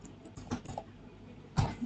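A few soft, scattered keystrokes on a computer keyboard while a password is entered, with a brief cluster of taps and then a slightly louder press near the end, quiet and close with no talking.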